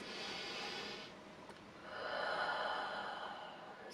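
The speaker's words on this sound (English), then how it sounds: "It's amazing how 5 of those deep in, out breaths can actually be useful" Slow, deep breathing in and out, a soft airy inhale followed by a longer exhale, close and quiet with no talking.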